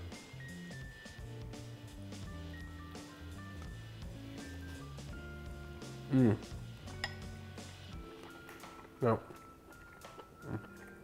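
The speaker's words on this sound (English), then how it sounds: "I'm gonna get some of the pork, some of the noodles, and everything with a fork." A fork clinks against a dish while lifting pork and noodles from a mushroom ramen, giving a few sharp metallic taps over background music.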